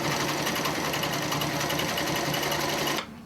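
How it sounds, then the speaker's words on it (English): A sewing machine runs fast and steady while stitching around a quilt seam, a loud, close, rapid mechanical whir that continues unbroken for about three seconds and then stops abruptly. "now this is just going to be sewing the rest of the way around."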